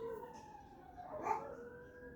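Police patrol car sirens pass through a city street in Mexico. A wailing tone rises and falls and swells briefly as it goes by, faint and somewhat distant over low background noise.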